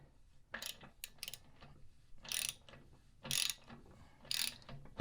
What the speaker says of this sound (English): Here I'm using the socket.